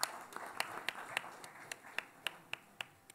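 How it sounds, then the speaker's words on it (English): Scattered, thinning hand claps from an audience at a CIO 200 Awards tech event in the UAE, a handful of sharp individual claps tapering off at moderate distance with no talk over them. "Big round of applause, please."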